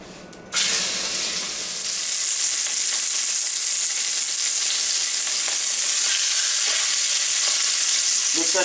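Pork chops drop into hot, smoking grease in a pan, setting off a sudden loud sizzle that carries on as a dense, steady frying crackle.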